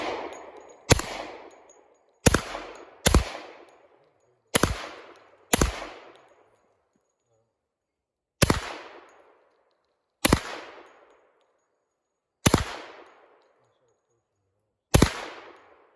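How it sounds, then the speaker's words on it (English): Gunshots at a shooting range, about ten sharp loud reports fired singly at irregular intervals, each followed by a short ringing decay, with no talk over them. "So let's take a couple shots and see how this thing works."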